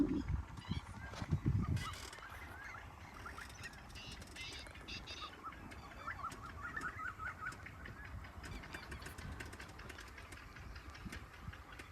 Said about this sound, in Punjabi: ਚਾਰ ਛਪੇਰੋਂ ਆਉਂਦੀਆਂ ਹੋਈਆਂ ਪੰਛੀਆਂ ਦੀਆਂ ਆਵਾਜ਼ਾਂ ਸੁਣੋ